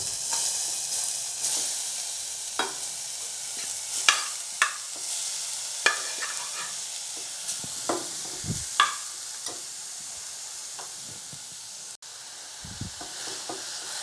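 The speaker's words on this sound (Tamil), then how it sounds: "அதே நெய்யில் துருவின கேரட்டையும் வறுத்து எடுத்துடலாம்." Grated carrot fries in ghee with a steady soft sizzle, broken by scattered spoon scrapes and taps against the pan, close and unaccompanied by talk.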